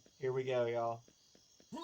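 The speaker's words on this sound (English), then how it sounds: "you can hear the crickets chirping" Crickets chirp in the Serious Sam video game as a thin, steady high trill running throughout, under someone talking briefly and a louder tonal game sound.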